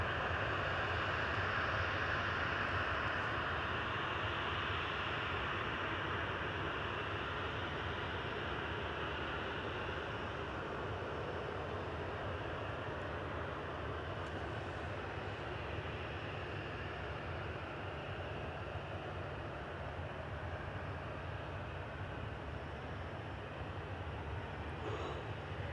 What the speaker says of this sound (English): Couple of props coming in now.